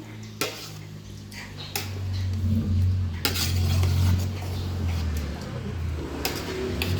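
A spoon stirs and mixes buko salad with cream in a bowl, steady scraping and clinking with occasional sharp knocks against the bowl, while a faint voice talks in the background.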